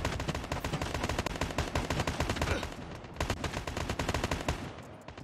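Gold AK47 being tap-fired in COD Mobile, a dense run of rapid, loud gunshots in quick bursts that barely pause across the whole stretch, with a brief lull midway.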